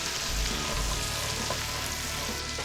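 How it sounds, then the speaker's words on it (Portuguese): Asparagus cooking in butter in a pan, a soft, steady sizzle close by with faint stirring, no voices. "Enquanto os aspargos estão cozinhando aqui"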